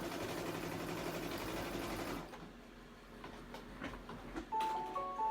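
An embroidery machine stitches down trapunto shapes with a steady, rapid mechanical whir. It stops about halfway, leaving quiet handling clicks and a few short electronic beeps.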